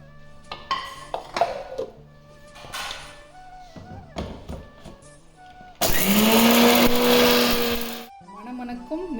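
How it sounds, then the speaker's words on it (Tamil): A mixer grinder jar powders dry-roasted fish curry spices for a Kanyakumari-style fish curry masala, a loud whirring burst of a couple of seconds after clattering kitchen knocks and taps. "ட்ரை ரோஸ்ட் பண்ணியிருக்கிற எல்லா பொருளையும் மிக்ஸி ஜாரில் சேர்த்து பவுடர் பண்ணி எடுத்துக்கலாம்."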